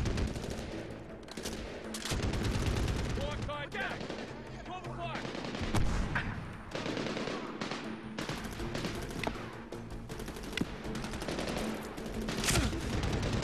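Heavy gunfire aimed at the player in the video game Medal of Honor Warfighter, with loud, near bursts of automatic fire and single shots, plus ricochets, continuing throughout alongside game sounds and some talk.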